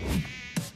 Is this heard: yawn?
no